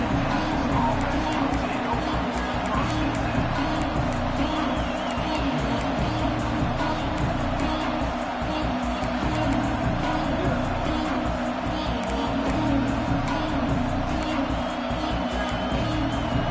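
A large football stadium crowd at a Texas game roars in a dense, steady wall of cheering, continuous and loud from start to finish with no pauses.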